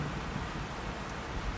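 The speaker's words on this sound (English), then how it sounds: "Listen to the soft, papery rustle of the rain hitting the broad, green leaves of the fig tree" Rain on broad green fig tree leaves in an old Roman garden at night, a dense, steady, hissing patter that fills the whole moment evenly with no pauses.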